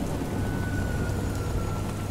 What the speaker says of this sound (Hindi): जब बहुत तेज बारिश हुई तो गाड़ी वहीं पर रोकनी पड़ी।